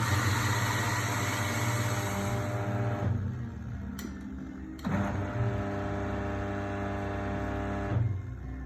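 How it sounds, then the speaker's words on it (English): A Mahlkonig E80 coffee grinder grinds out leftover beans caught between collar and burrs, a loud steady motor whir with grinding texture that breaks off and restarts in short bursts, then settles to a lower hum. "So grinding these beans out is really going to help a lot."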